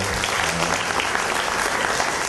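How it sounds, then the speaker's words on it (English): A big round of applause from a conference audience at the UCEC2012 event for the Thammasat University organizers, dense and continuous clapping that stays loud and even throughout. "let's give the Thammasat University organizer this UCEC2012 big round of applause"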